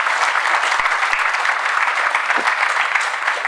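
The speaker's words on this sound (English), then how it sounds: "Brilliant, round of applause." An audience at a seaside writing festival talk gives a round of applause, steady dense clapping heard clearly from start to finish with no talking.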